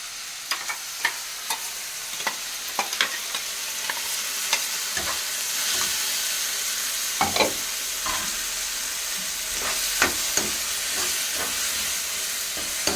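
Onions, tomatoes and green chillies frying for chicken curry sizzle steadily in a pan, with a hissing bed broken by frequent scraping stirs of a spoon, close and clear with no talk.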